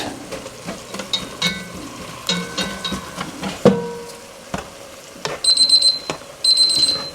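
A kitchen timer rings in two short bursts of rapid beeping near the end, after a stretch of clatter and soft sizzling while making baked tortellini.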